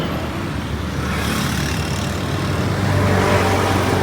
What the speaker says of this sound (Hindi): और ये जा रही है गाँव को गाड़ी।